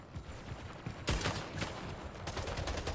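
Rapid gunfire in the video game Splitgate, bursts of sharp shots in quick succession, loud and close.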